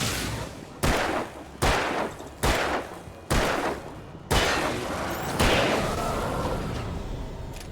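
Gunfire in the video game Alan Wake: around seven sharp, loud shots spaced roughly a second apart, each with a short decaying tail, no talk over them.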